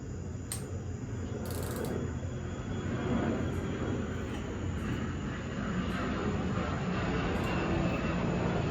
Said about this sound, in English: here comes another jet.